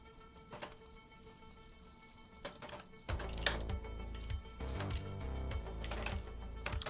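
Computer keyboard typing, scattered clicks at first, then a louder, steady run of clacking keys under a constant background hum, with no one speaking.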